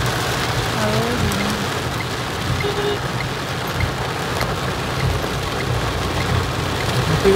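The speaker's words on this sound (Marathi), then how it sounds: "पाऊस बघा, बापरे काय दिसतच नाही पुढचा" Heavy rain drums steadily on a car on the Mumbai-Goa Highway, a dense continuous patter, with faint speech briefly underneath.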